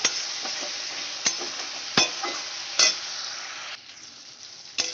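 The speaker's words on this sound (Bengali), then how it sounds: "পিউরিটা দিয়ে আমি ভালো করে কষাতে থাকি" Tomato puree sautéed in a pan with a steady hissing sizzle, broken by a few sharp spatula knocks and scrapes, close and continuous, quieting near the end, with no speech.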